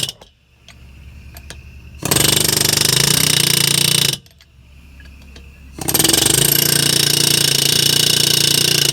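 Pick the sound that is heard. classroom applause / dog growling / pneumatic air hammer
pneumatic air hammer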